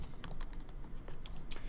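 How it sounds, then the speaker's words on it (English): Computer keyboard keys being pressed during 3D mesh modeling work, a few close crisp clicks in a quiet room, ending with a firmer keystroke. "And I hit enter to execute that cut."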